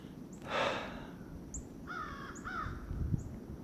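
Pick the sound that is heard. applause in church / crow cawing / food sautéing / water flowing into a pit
crow cawing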